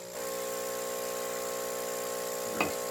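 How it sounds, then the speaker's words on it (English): Small vacuum pump for a milk-washed bourbon filtration setup starts up and runs with a steady, even electric hum and drone, loud and close, with a brief clink near the end. "So we're going to go ahead and start the vacuum pump."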